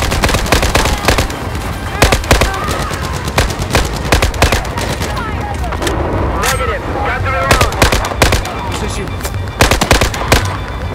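Dense bursts of automatic and single gunfire in a Battlefield 4 Singapore campaign battle, loud and close with rapid irregular cracks throughout, while soldiers shout commands over the shooting.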